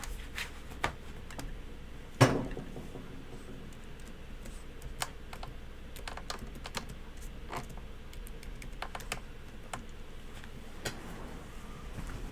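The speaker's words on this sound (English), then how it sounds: "Maybe they're typing their question." Typing on a computer keyboard, scattered soft clicks and taps at an irregular pace, one sharper knock near the start, against a faint steady background hum.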